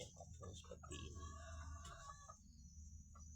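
Free-range village chickens kept for eggs, clucking and calling close by in short bursts with a few higher squawks over low farmyard rumble, fairly faint, no talk.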